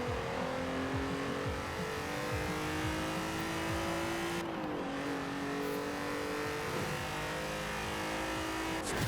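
A massive drag-racing truck in Forza Horizon 4 roars continuously with wheel spin, its engine note climbing through gear changes with tire squeal mixed in, loud and close with no talking.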